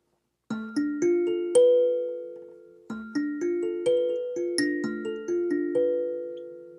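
Bright metallic kalimba tines plucked one after another while the kalimba rests on a drum head, each note ringing out with a full, drum-like resonance, in two short melodic runs.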